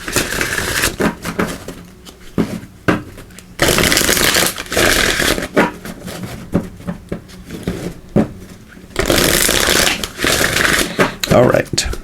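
Wisdom of Avalon oracle cards are shuffled in repeated bursts of riffling and rubbing, close and loud, with a person speaking in the gaps between shuffles.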